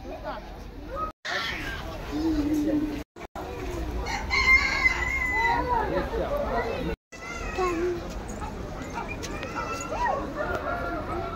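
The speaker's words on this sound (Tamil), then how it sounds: "இந்த மஞ்சள் நிற தங்க பெசன்ட்" A yellow golden pheasant gives repeated crowing, rooster-like calls amid a busy background of children's voices and chatter, with brief gaps between bursts.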